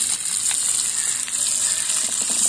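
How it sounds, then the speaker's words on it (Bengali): Washed potatoes slipping into hot oil in a tiny miniature-kitchen pan, a bright, close hissing sizzle with scattered small splutters that stays steady, with no one speaking. "আলুগুলোকে দিয়ে দেবো তেলের মধ্যে"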